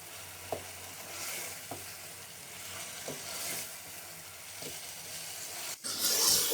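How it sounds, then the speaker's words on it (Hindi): Chicken sizzles faintly in a pot as it fries for Afghani Kabuli pulao, with soft stirring scrapes about once a second and a louder clatter near the end; no one speaks. "चिकन डालने के बाद हम इसको 5 मिनट फ्राई करेंगे।"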